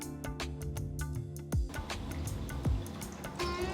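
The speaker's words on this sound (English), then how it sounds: "Wash it a few times, pour enough water and soak it for 1 hour." Water poured over a kilo of whole grain basmati rice in a bowl to soak, with close, quiet trickling and a couple of distinct splashy drops amid soft liquid gurgling.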